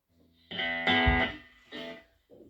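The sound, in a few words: electric guitar with distortion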